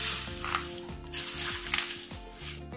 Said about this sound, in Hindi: अब हम इसमें इसका तड़का रेडी करेंगे।